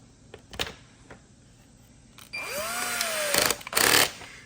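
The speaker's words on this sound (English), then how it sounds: "Just using my drill on a low torque setting." A cordless power drill on a low torque setting whirs in a short burst, its motor pitch rising then settling, preceded by a few faint knocks and clicks nearby, while amber grille lights are installed on a Ford Bronco.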